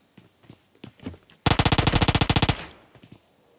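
AK rifle firing in PUBG Mobile during a tournament match, a fast loud automatic burst of about a dozen shots lasting about a second, with faint scattered game sounds before and after.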